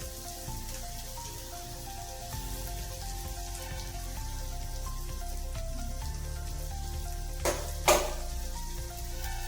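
A curry with fresh grated coconut sizzles and crackles in a pan, a steady close frying hiss with a brief louder stir near the end and no talking.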